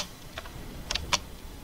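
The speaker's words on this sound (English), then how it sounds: "Sorry if my keyboard's too loud." A few faint, sparse keystrokes on a computer keyboard at a desk, isolated clicks spaced unevenly over a quiet background hiss.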